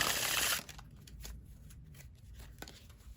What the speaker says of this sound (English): I'm going to shuffle again for the second round of interrogation